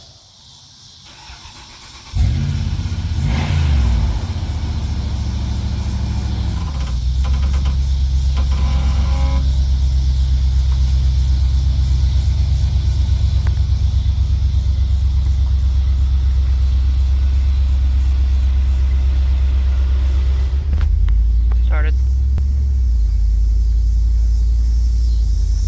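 A Lexus GX470 SUV engine catches and settles into a loud, steady low rumble as it drives, close and continuous for the whole stretch with no voices.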